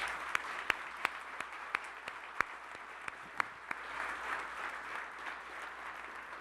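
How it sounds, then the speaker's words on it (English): Audience applause at an Ohio State University live-streamed event with President Ted Carter, a steady wash of clapping from a crowd, moderately distant, with a few sharper individual claps standing out. "Let's have a round of applause for all of those people."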